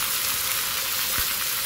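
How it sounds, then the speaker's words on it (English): Beef chunks searing in a hot pan before going into a stew, a steady loud hiss of sizzling fat with no voices over it. "So I'm gonna sear off those three and kind of flip them, then sear off the other three."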